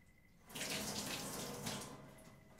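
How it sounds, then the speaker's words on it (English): Distilled water runs from a tap-like pour over enamel pieces being rinsed, a steady broadband splash starting after a short quiet lead-in and continuing close and fairly loud to the end. "Going to rinse them with some distilled water."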